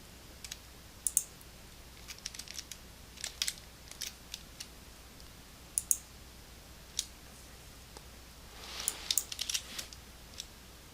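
Scattered computer mouse clicks, single and doubled, sound sharp and close in a quiet room while working in image-editing software, with irregular pauses between them and a short burst of rapid clicks near the end.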